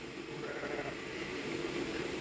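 Sheep bleat faintly over a continuous low background noise, somewhat distant.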